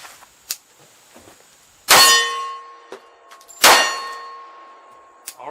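Pistol rounds strike a steel target outdoors, giving two loud sharp clangs that ring on with a sustained metallic tone, plus fainter pops and a few smaller distant pings around them.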